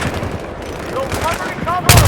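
Suppressive gunfire from soldiers covering a run near an M1 Abrams tank: rapid bursts of shots and booms rattle over a shouting voice, ending in a louder close blast.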